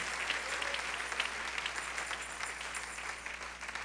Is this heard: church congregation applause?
yes